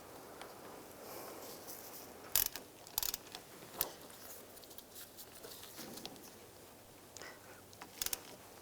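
Banjo bolt being tightened into a brake caliper on a 2001-2008 Chevy Trailblazer rear brake hose, giving close, quiet ratcheting clicks in short bursts with sharp metallic ticks.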